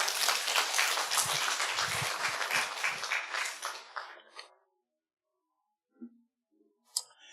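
A church congregation at a mountain prayer-retreat revival meeting claps together in a dense, steady wash of applause for several seconds before it quickly dies away into near silence, leaving only a few faint stray sounds.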